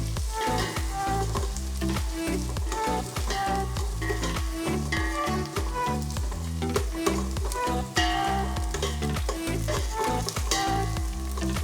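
Steady sizzling and crackling from onions sautéing in a pan for cabbage chicken curry, loud and close, continuing without pause and with no voices.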